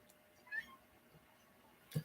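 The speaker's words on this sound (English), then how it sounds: "That's my cat." A house cat gives a couple of brief, faint meows indoors, short soft calls spaced apart in a quiet room with no talking.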